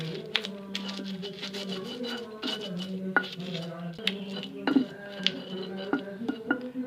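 Repeated knocking and scraping of a pestle grinding sambal terasi in a stone mortar, steady and close, with sharp clinks scattered throughout.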